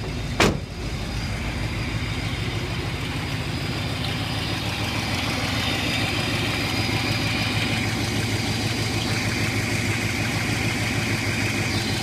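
A carbureted engine idles steadily after being started with starting fluid on a cold day, a continuous close rumble with one sharp click near the start and no talking.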